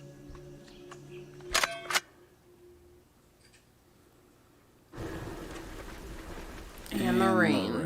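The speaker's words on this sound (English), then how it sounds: "And the rain." After a quiet stretch broken by a couple of sharp clicks, a steady hiss of rain sets in, and a voice speaks over it near the end.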